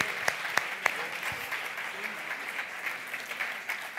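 Audience applause at an awards ceremony, a steady wash of clapping from a crowd with a few sharper close claps near the start, continuing evenly for the whole stretch at moderate loudness.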